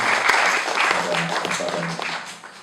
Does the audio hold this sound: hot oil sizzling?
no